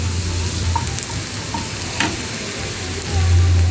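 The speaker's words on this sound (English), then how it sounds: "So we're going to cook our onions. We're going to sweat them first." Onions sweat in a frying pan with a steady, loud, close sizzle, with an occasional faint stir or clink and a low hum underneath.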